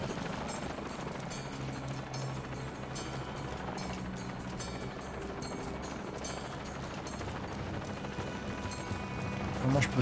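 Helicopter in the video game Shadow of the Tomb Raider, a steady rotor drone with low mechanical rumble running throughout, with faint game sounds on top and a slight swell at the end.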